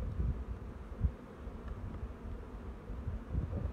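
Low, steady hum of honeybees clustered tightly in a hive in early spring, a soft continuous buzz with slight swells and faint rustling.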